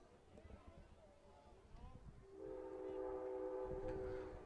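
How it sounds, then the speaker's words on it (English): A train at night near a baseball game, a low rumble building into a sustained, fairly distant horn blast over soft ambient crowd noise and faint talk. "Trains roar in the background over the night sky."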